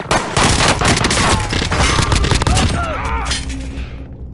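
Dense, loud gunfire in a shooter video game, rapid overlapping automatic bursts crackling nonstop close by for several seconds, with a voice shouting briefly amid the shots.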